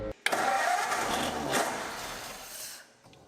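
The engine of a 1939 Ford truck found in a barn cranks on a struggling starter and catches, running rough, loud and smoky for a few seconds before cutting out, close by with no talking.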